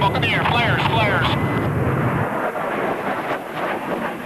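AV-8B Harrier jet flying overhead, a loud continuous roar with a falling, sweeping pitch early on, then a steadier broadband rush that persists throughout.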